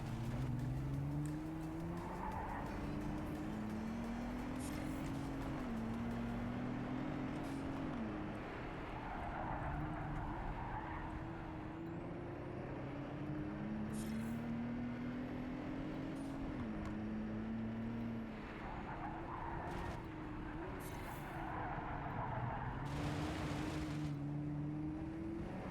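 Race cars in Project CARS 3 howling through gears, with engine pitch rising and falling through repeated shifts and occasional tire squeal, loud and continuous throughout.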